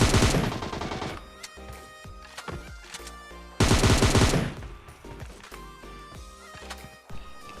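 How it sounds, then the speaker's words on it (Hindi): Gunfire in a shooter battle royale game, two loud rapid automatic bursts separated by scattered single shots and clatter, close and punchy, with faint background sounds. "अब इस वाले बंदे को भी गन स्विच करके हम बड़ी आसानी से ठोक देते हैं।"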